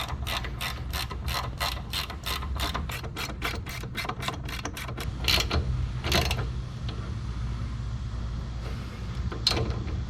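Rapid ratchet-wrench clicking while wheel hub bearing bolts are torqued to spec on a 2nd-gen Dodge Ram 1500 RWD, a fast steady run of close, loud clicks, then a few slower separate clicks and clunks.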